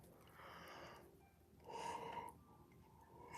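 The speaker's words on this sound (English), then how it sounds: "Oh my, what a yawn." A person yawns with a long, breathy, faint inhale and a gasping rise in the middle, then trails off into quiet breathing in a still room.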